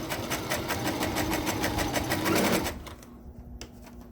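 A sewing machine stitches fabric for a skull cap in a steady, rapid run of needle strokes, loud and close, then stops abruptly with a faint hum and an isolated click left.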